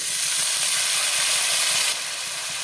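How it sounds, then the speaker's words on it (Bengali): Chopped onion with black cumin seeds sizzles in hot oil, a steady close hiss that drops slightly in level partway through, with no talking. "পেঁয়াজটাকে লাল করে ভাজবো"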